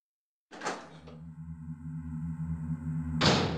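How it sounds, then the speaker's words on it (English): A heavy door opens in the PlayStation Resident Evil game, starting with a clack, then a long low creaking groan and rumble that swells and ends in a thudding clunk, close and isolated with no talking. "I'm going to go in through this door this time."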